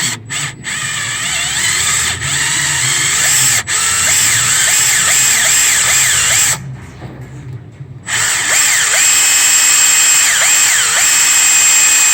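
A power drill bores out EGR bolts on a 6.7 engine, a loud, close, sustained whine that wavers in pitch under load, with brief ratcheting catches and one short pause near the end.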